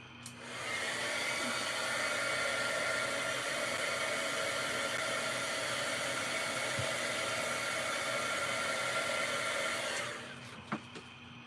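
A hair dryer blows on chalk paint over a stencil craft, a loud steady whoosh running about nine seconds before cutting off, followed by a couple of small clicks.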